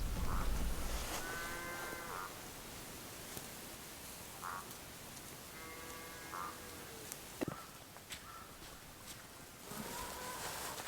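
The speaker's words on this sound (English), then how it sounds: "The cows this morning are so loud." Several cows moo in drawn-out calls, spaced apart and somewhat distant, over a quiet outdoor background with no talking.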